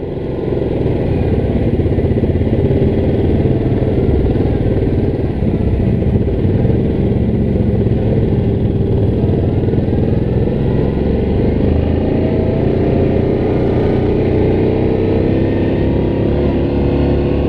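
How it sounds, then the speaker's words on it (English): A Can-Am off-road vehicle engine runs on a dirt trail, a loud, steady, close drone with a constant rumble and clattering texture throughout, no talking. "I hear another bike behind me too. Sounds like a Can-Am."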